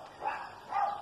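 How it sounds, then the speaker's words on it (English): Two faint, distant dog barks sound about half a second apart, brief and muffled. "You can hear the dogs barking."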